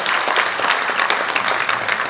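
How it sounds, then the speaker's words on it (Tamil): An auditorium audience applauding loudly and steadily, a dense crackle of many hands clapping that holds evenly throughout, with no voices on top. "கருணா சாருக்கு நல்ல மிகப்பெரிய கரகோஷம் கொடுங்க, இந்த அரங்கமே அதிர மாதிரி கொடுங்க"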